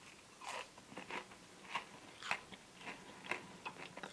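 Crunching bites of toasted fried cheese, a series of crisp, close chewing crunches repeating at an irregular rhythm, heard alone without talk.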